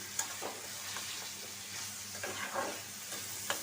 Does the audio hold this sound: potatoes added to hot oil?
yes